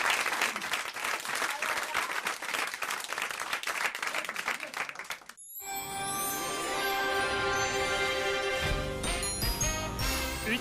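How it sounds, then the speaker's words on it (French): A French television studio audience bursts into brisk, dense applause that stops abruptly after about five seconds. A bright jingle of music with chiming tones follows. "on vous applaudit et on vous embrasse"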